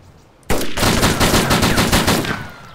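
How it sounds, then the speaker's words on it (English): Loud automatic gunfire in the DayZ Standalone game: after a quiet start, a fast burst of evenly spaced shots bursts in and rattles on for about two seconds, close and dominant. "This dude's shooting at me, what the hell?"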